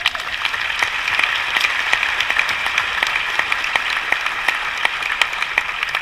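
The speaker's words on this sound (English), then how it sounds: "just another big round of applause for all the organizers" A keynote audience at a Salesforce community conference gives a steady round of applause for the organizers, even, sustained clapping from a large room at moderate level.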